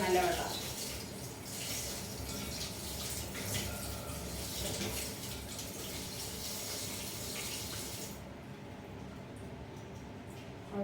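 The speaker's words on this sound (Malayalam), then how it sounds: "ഈ റണ്ണിങ് വാട്ടറിൽ ഇങ്ങനെ വെച്ച് ഇതിൻ്റെ ആ കൊഴുപ്പ് അങ്ങ് കളയും" Sago pearls rinsed under running tap water: a steady, close gushing stream with faint splashing, running for about eight seconds before cutting off abruptly.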